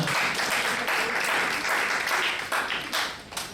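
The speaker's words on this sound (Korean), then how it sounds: "우리 소그룹원들에게 한 번 더 축복의 박수 보내드리겠습니다." A crowd applauds at a church young adults' worship service after a musical performance, dense clapping that starts full and gradually thins out toward the end.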